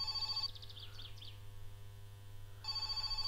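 An in-game telephone rings in My Summer Car, two electronic ring bursts separated by a long pause, with a steady low mains-like hum and faint chirps underneath.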